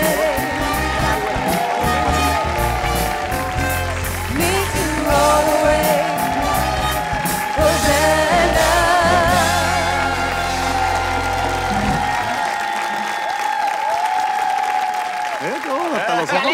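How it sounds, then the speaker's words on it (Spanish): Studio audience on a Mexican TV variety show applauds and cheers loudly with whoops and shouts over music, fading out near the end. "Fuerte el aplauso para Carolina Sepúlveda y Estefanía Gómez."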